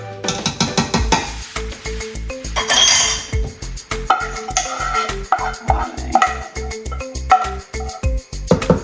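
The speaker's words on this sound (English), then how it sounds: "We're going to add the remaining sauce here with the pasta to mix everything together." Baked ziti pasta tossed with sauce in a pan, with repeated rhythmic clinks and scrapes of a utensil on the pan and wet squelching stirring, close and fairly loud, no talking.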